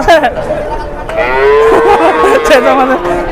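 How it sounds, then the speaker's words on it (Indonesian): An agitated cow at a cattle weighing scale lets out a long, loud, drawn-out moo close by, with people chattering in the background. "ada sapi ngamuk nih"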